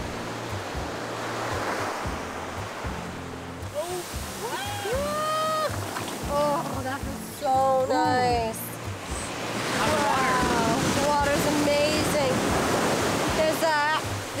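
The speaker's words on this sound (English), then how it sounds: "waves are pretty intense," Ocean waves washing onto a beach in South Goa, a continuous rushing surf that swells louder in the second half, with people talking and exclaiming over it.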